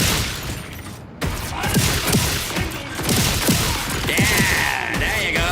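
Sticky-ammo explosives detonate in the Borderlands 4 shooter, a dense, loud run of booms, cracks and crashing debris over steady game noise.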